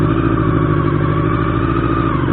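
A Honda CB1 400 motorcycle warms up, its engine running at a steady, loud idle close by, with an even, throbbing pulse and no voices.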